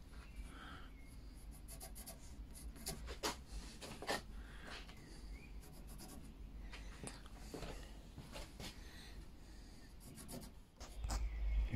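A pencil marks timber stud-wall uprights in a garage, giving short dry scratching strokes in irregular bursts, close and fairly quiet.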